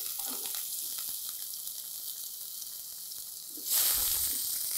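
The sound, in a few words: garlic and onion sautéing in a pan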